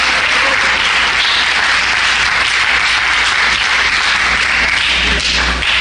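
Sustained applause from a church congregation fills the space at a steady, dense level, broad and continuous from start to finish with no voices standing out.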